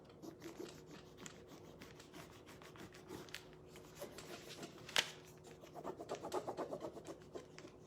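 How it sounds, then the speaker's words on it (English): Fabric transfer edge being rubbed by hand to loosen the excess, giving soft, faint scratchy rasping strokes in short repeated bursts, with one sharper scrape partway through and a quicker run of rubs near the end. "I'm just gonna kind of rub this edge right here to get this excess off"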